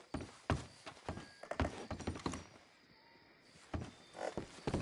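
A horse's hooves clop along in Red Dead Redemption 2, a few uneven thuds close by, with a quieter pause in the middle before the steps pick up again.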